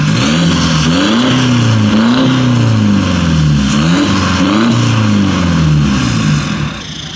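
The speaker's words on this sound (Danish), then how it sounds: "Så er der min clapped out Beamer. Med den der grimme exhaust." Worn-out BMW E46 sedan revving hard through an ugly aftermarket exhaust, the loud, close engine rising and falling in several repeated blips before the revs settle near the end.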